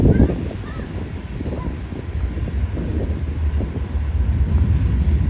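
A Union Pacific freight train led by Norfolk Southern locomotives rumbles past in Lombard, Illinois, with a steady rolling clatter of wheels on rails, fairly close and continuous, with faint bird calls above.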